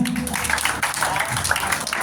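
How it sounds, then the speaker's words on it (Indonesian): Audience applause fills a youth church revival gathering in Jakarta, a dense, steady wash of clapping from many hands that runs through the whole stretch at an even, moderately loud level. "tepuk tangan dulu ya"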